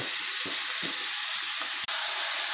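Pancit noodles frying in a pan make a loud, steady sizzle with soft stirring scrapes and clatters underneath, plus one brief break in the hiss.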